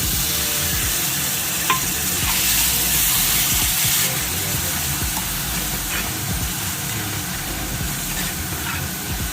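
Water, spice-rinsing water, poured into a spice paste frying in oil for a Bengali fish jhal, a loud continuous close hiss and sizzle with occasional stirring knocks underneath.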